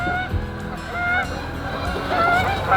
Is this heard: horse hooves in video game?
no